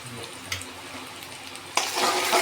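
Onion and ground spice paste fry in a pan with steady, close sizzling and occasional stirring scrapes, the sizzle growing louder and brighter near the end.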